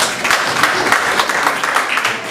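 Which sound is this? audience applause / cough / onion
audience applause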